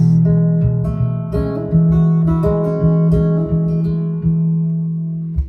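Strummed acoustic guitar chords from a song ring out, sliding up the neck from a G shape to a C shape, with repeated strums and sustained tones, no talking.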